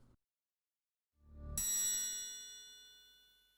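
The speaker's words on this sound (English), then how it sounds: "before ending on the note of a mysterious chime" A mysterious chime closes a song: after a short silence, a low swell rises into a single bright, ringing bell-like strike that decays slowly and alone.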